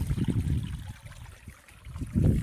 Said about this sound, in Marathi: बघू शकता तुम्ही, इथून पाणी जातंय